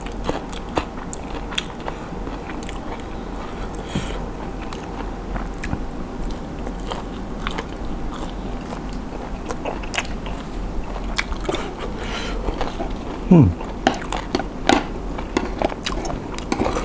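Biting and chewing on grilled squid and spicy green papaya salad, close and steady with soft wet crunches throughout and a couple of sharper bites near the end, with no talking.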